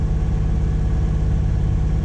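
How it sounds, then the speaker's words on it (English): The inboard engine of a Bavaria 41 sailboat runs steadily on a fjord, a loud, even low drone and rumble with no voices. "It's gonna be a long haul with an engine noise today."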